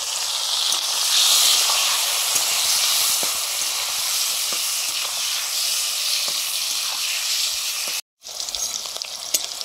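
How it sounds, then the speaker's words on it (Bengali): Flat beans frying in a pan make a loud, steady hiss of hot oil with faint crackles throughout, cut by a brief dropout near the end before the sizzle resumes. "এবারে সিমগুলো ভাজছি।"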